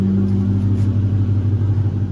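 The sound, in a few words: failing car motor rumbling and revving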